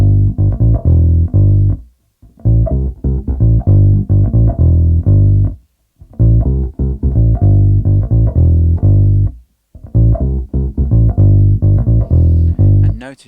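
Bass guitar playing the repeating two-bar intro and verse pattern of a song. Each phrase starts after a short silent gap and continues with clean, plucked notes in a steady rhythm.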